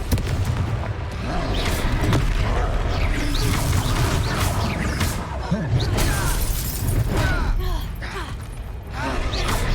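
Explosive fire curses in Hogwarts Legacy crack and boom repeatedly amid a busy battle soundscape, with shattering impacts and clattering effects layered under shouted game voices.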